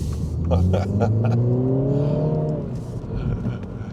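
A 2022 Mini Cooper JCW accelerates on a British country road, its engine note climbing steadily through the revs from inside the cabin, loud and close, with road and wind noise underneath.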